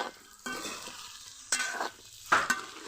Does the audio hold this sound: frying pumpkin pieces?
yes